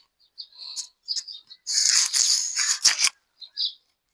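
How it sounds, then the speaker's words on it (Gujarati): Sparrows chirp in the morning in a village yard near a freshly filled bird water pot, with short bright tweets followed by a dense burst of overlapping chatter, then a few more isolated chirps, close and clear. "ચકલી નો અવાજ આવે."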